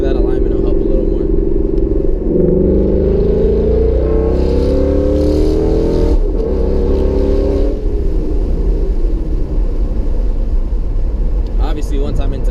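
A 2016 Mustang GT fitted with Steeda IRS components accelerates hard from about 3,000 RPM. The loud, close engine rumble climbs in pitch through the gears, then settles into a steady drone.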